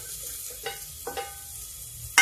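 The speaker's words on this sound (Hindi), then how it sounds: "अब इसी में हम ये गाजर मटर डाल देते हैं।" Carrots and peas drop into browning onions in a kadhai, giving a soft low sizzle with a few quick stirring scrapes and a sharp clink at the end, close and quiet with no talking.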